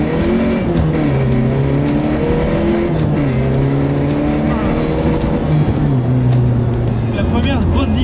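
A Peugeot 205 fitted with a swapped Peugeot 405 engine accelerates away, revving up through the gears with rising and falling engine tones, loud and close, while people talk over it inside the car.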